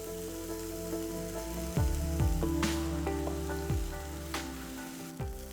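Steady sizzling as parboiled noodles go into a hot pan of frying vegetables for veg hakka noodles, with a few clanks of utensils against the pan over a continuous crackle.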